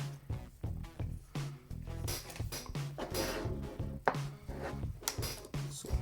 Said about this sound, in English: I'm using this brush to mix it up